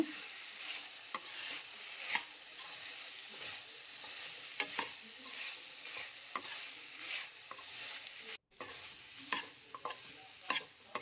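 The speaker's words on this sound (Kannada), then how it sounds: "ಈಗ ಇದಕ್ಕೆ ಎಣ್ಣೆಯಲ್ಲಿ ಹುರಿದು ತೆಗೆದಿದ್ವಲ್ಲ ಕ್ಯಾಪ್ಸಿಕಮ್ ಅವನ್ನ ಹಾಕ್ಕೊಳ್ತೇನೆ ಕಲಿಸ್ಕೊಳ್ಳೋಣ" A spoon works steadily through potato curry with fried capsicum in a pan, giving soft scraping strokes at a regular pace over a constant faint sizzle.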